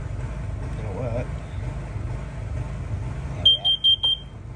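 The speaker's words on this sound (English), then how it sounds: "Carbon monoxide alarm." A carbon monoxide alarm for a wood stove in a remote Scottish bothy gives a short burst of four sharp, high beeps near the end, after a stretch of quiet background with a voice heard earlier.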